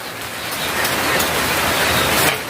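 Steady rain falls in a dense, even hiss that holds without a break, close and fairly loud, with no voices over it.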